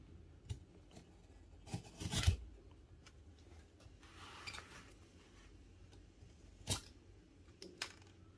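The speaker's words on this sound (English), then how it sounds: "Let's see if it can pass the straw cut test." A Rough Ryder Buckshot Bone Barlow pocket knife with 440A stainless steel blades slices through drinking straws, giving a series of faint, sharp snips and clicks scattered over a quiet background.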